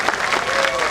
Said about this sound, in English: We should clap for Sri Lanka and Pakistan friendship.